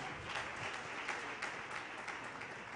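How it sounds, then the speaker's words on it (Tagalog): A church congregation at a JMCIM service in San Carlos City, Pangasinan, applauds loudly, with dense, sustained clapping filling the room steadily from start to finish. "pumalakpak ng malakas."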